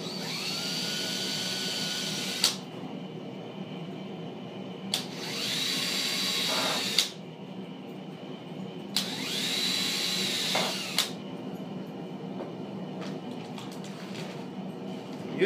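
A power drill whines in several bursts of a few seconds each, driving coarse-thread metal Phillips pan-head tapping screws into the Y-axis rails of a CNC router bed. Between bursts there are short pauses with faint handling clatter.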